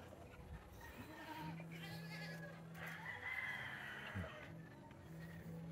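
A cross-bred native rooster crows from a backyard free-range pen, a drawn-out call heard at middle distance over steady outdoor background noise.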